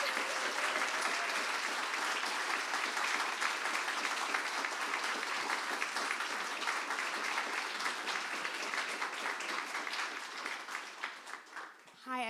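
An audience at a book launch author talk applauds steadily and loudly for about twelve seconds, dense clapping filling the room before thinning out at the end; some voices mix in beneath the claps.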